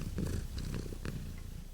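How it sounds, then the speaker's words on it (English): A contented male cat purring steadily up close, a low continuous rumble with a soft rhythmic pulse running through the whole stretch. "Purring, yeah, he's purring, isn't he?"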